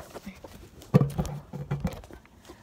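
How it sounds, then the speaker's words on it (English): A dog moves around inside a house, its paws and body giving off a few soft, irregular thumps and patters close by, mixed with brief bits of voices. "Oh, that's just the dog."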